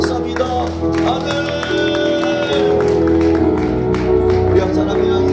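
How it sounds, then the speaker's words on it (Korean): A church congregation applauds to give glory to God during a prayer meeting, steady sustained clapping with some cheering, heard alongside a voice and a sustained musical backing. "하나님께 영광의 박수합니다"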